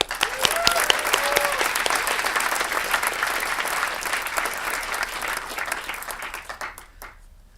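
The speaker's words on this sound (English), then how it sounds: "So please give a big round of applause for Shawn and Sal." A conference audience claps steadily for several seconds, dense and close with some cheers and voices mixed in near the start, then the clapping fades out toward the end.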